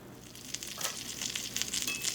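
Sourdough pan pizza crisping in a cast-iron pan on a stove over medium to medium-high heat makes a soft, close sizzle with scattered crackling pops that grow slightly louder toward the end.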